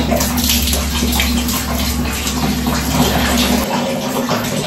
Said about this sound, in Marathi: तर आता त्याच्यावर ना एकदम गरम पाणी टाकणार.